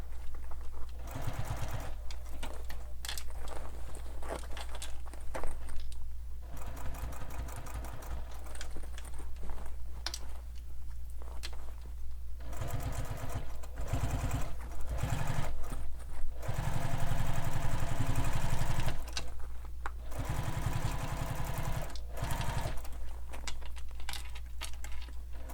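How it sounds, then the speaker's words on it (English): A sewing machine stitches binding down around the edge of a sling pack, its rapid mechanical whirring running in bursts separated by brief pauses, close and clear with no talking. "So I'm sewing my binding down"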